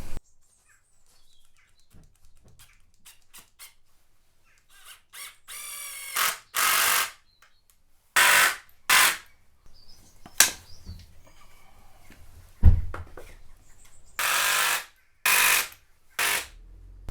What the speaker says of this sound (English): So I'm just going to screw them in.